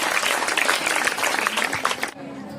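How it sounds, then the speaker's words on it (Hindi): An audience at a school teachers' day and farewell ceremony claps loudly in a dense, sustained burst of applause that cuts off abruptly near the end, leaving a quieter room tone. "इनके लिए जोरदार से तालियां।"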